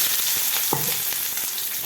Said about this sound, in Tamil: எண்ணெயை காய வச்சு அது மேலே கொஞ்சம் சீரகம் போட்டிருக்கேன்